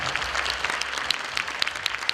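Audience applauding at a Yakut women's contest, a dense steady wash of many hands clapping at moderate loudness with a few sharper claps standing out, no talking.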